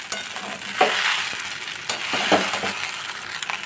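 Vegetarian sago pulao being stirred in a pan with a spatula, a steady soft scraping and gentle sizzle with a few sharper scrapes, close and alone.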